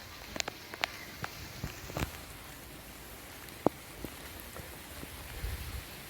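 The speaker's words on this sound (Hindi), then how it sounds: "बारिश जो है वो शुरू हो गई है आज सुबह सुबह" Quiet, steady morning rain patters on surfaces outdoors, with scattered sharper drips and taps breaking through the soft hiss.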